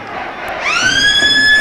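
A full-time hooter sounds at a rugby league match, a loud sustained rising tone that starts partway in and holds steady over crowd noise.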